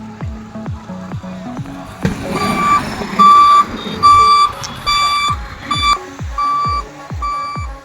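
Reversing beeps from a goods truck arriving to be loaded, a loud steady series of repeated electronic bleeps with the rumble of the vehicle underneath, outdoors and close by.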